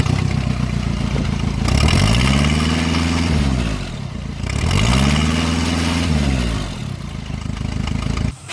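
A 2015 VW Amarok with a slow coolant leak cranks and runs, its loud engine rumbling steadily at close range and rising and falling twice in long sweeping surges.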